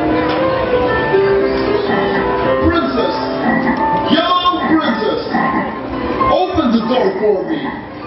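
A storyteller imitates a frog croaking in a fairy tale, voicing loud, repeated croaks close to the microphone, mixed in with narration.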